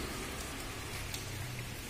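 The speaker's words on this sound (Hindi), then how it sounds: "अभी बारिश आई हुई है" Rain falls steadily on a flooded Delhi street, a constant broadband hiss of drops on wet pavement and standing water, moderately quiet and even throughout with no voices.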